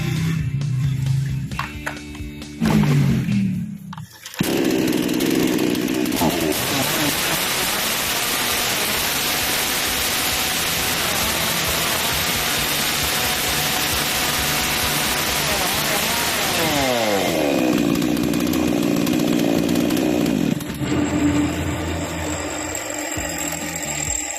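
A Black Bull chainsaw's small two-stroke engine buzzes loudly and steadily, revving up and then dropping back to idle, with mechanical clatter around it.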